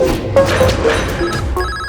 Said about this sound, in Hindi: आपके भाई के दोस्त का फोन है